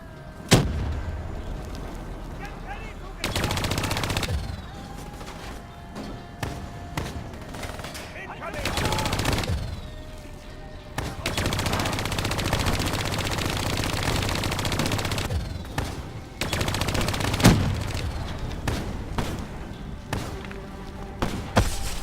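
Heavy gunfire and explosive blasts fill a Call of Duty Black Ops 3 battle, coming in long sustained bursts with short lulls between them, loud and dense, while game dialogue is heard at times.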